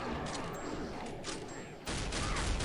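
Gunfire in the Counter-Strike Nexon Studio video game: a steady stream of game shots runs throughout, with a louder, denser burst in the last second.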